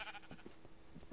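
Sheep bleating in Minecraft, several short game bleats recurring through a dense, busy background of other game noise, fairly loud with no talk.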